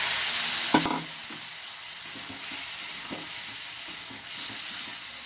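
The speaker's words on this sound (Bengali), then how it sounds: "এবার এতে আমি অল্প একটু জল দিয়ে দিচ্ছি যাতে মশলাটা পুড়ে না যায়" Spice paste of ground coriander and cumin sizzles loudly in a hot pan after a splash of water goes in, for a kohlrabi dish. A steady frying hiss runs throughout, with occasional soft stirring knocks.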